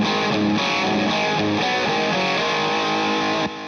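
A Sawtooth ES hybrid electric guitar on its single-coil bridge pickup, driven through distortion, plays a dense, bright, fast run of notes that stays loud and close before cutting off abruptly.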